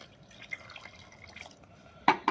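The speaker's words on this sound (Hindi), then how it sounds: "अभी मैं वापस इसमें और पानी डालता हूँ" Water is poured onto cocopeat in a hydroponics setup, giving soft scattered drips and trickles that end in two louder splashes close by, with no talking.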